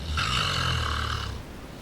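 A person snores once, loudly and close by, in a single long rasping inhale that fades out after about a second.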